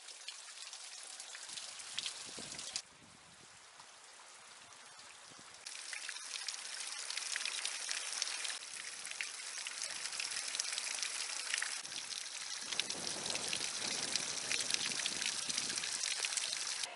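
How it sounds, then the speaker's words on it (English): Hot waterfall in Gold Strike Canyon near the Colorado River, a steady broadband splashing and pouring rush that fills the whole clip, close and continuous, dropping slightly in level for a few seconds before swelling again. "It's not a hot spring, it's a hot waterfall."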